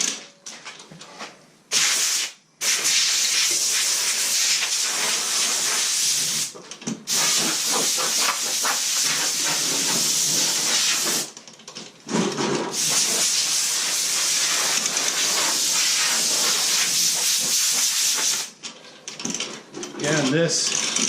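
Compressed air blasts sanding dust off a longleaf pine live-edge slab for a coffee table top, coming in long loud hissing bursts separated by brief pauses.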